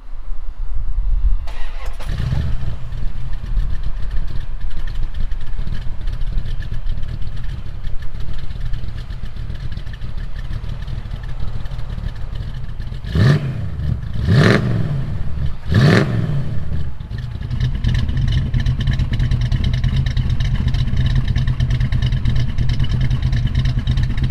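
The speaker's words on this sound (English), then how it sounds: "I haven't given you guys a sound clip on this car for quite a while." A car engine cranks and catches, then settles into a lumpy, loud idle, with three sharp throttle blips revving up and dropping back before it returns to a steady rumble, close by and alone.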